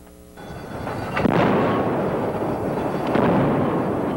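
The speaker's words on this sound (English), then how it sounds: "The ship's 76mm rapid-firing gun can destroy a target 4 to 5 miles away. It releases more than 1 round per second" A 76mm rapid-firing naval gun fires aboard USS Gary, a frigate. A sudden loud, deep boom rolls into a long, thundering roar, and a second heavy blast comes about two seconds later. No voices are heard.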